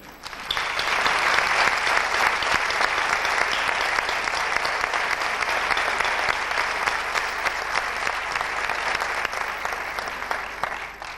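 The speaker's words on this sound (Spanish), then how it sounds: "Vamos a recibirlo también con un gran aplauso" A crowd at a 1995 literary prize ceremony in Tomelloso gives a prize winner a long, full round of applause, dense and sustained for about eleven seconds before it tapers slightly at the end.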